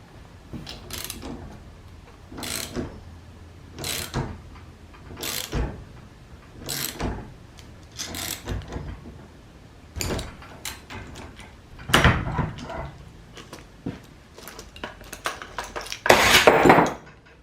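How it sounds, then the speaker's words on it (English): A puller is cranked to free a seized steering wheel from a Kubota G4200 tractor, giving repeated metallic ratcheting clicks in regular bursts every second or two, close, ending in a louder clank. "it's not a steering wheel puller, but it's a puller, so it should pull that steering wheel right off"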